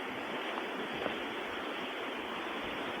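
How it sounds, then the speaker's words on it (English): Waterfall along an Ozark overland adventure trail, a steady, dense roar of falling water, loud and unbroken over the whole stretch, with no talking. "Nice, beautiful waterfall."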